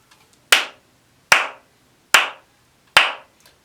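Four crisp hand claps land at an even, unhurried pace, each sharp and close with a brief ringing tail, and nothing else is heard between them.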